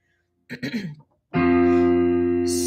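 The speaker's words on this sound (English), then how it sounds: "Here's your new starting pitch." A brief spoken bit, then a steady sustained pitched tone with rich harmonics, a reference starting pitch for singers, holds loudly for over a second to the end.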